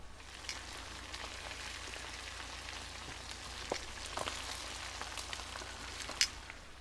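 Lemon-pepper fish fillets fry in a pan with a steady, close crackling sizzle and scattered sharp pops of spattering oil; no one speaks.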